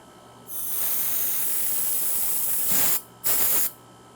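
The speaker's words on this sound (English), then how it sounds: "what I want to do is I want to purge the air out of this hose" R-410A refrigerant hisses loudly from a charging hose as air is purged from it, a steady broadband jet that runs for a couple of seconds, cuts off briefly, then bursts again and stops.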